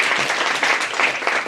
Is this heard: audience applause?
yes